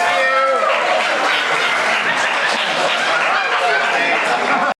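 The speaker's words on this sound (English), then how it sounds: "Round of applause once again" A comic convention panel crowd applauding and cheering for voice actors, steady loud clapping mixed with whoops and lively chatter throughout, with voices heard over the noise.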